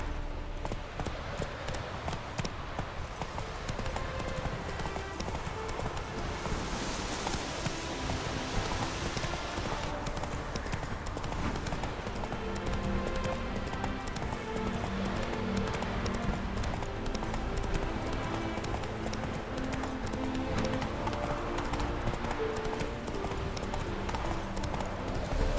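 Roach the horse gallops in The Witcher 3, a steady, fast clip-clop of hooves running on without pause beneath a hiss of rain and ambient game sound, fairly low in level.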